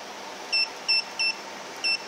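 Four short, clean electronic beeps from the control panel buttons of a Carefit Super Body Sculptor weight loss machine, evenly spaced and fairly crisp over a quiet background hiss.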